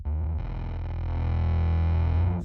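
A distorted electric guitar played through an overdrive pedal rings out with a thick, sustained overdriven tone, loud and close, with no talking.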